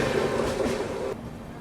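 Inside a first-class AC coach of a moving train between Bhopal and Jaipur, there is a steady low rumble with a humming tone from the rails. It quiets abruptly partway through, leaving a softer background drone.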